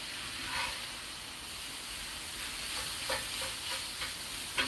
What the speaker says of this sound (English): Make sure this meat is evenly cooked.